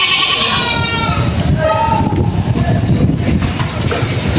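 Goats bleat repeatedly at a livestock market in Padre Garcia, Batangas, with several overlapping calls rising over a loud, busy crowd and people talking nearby.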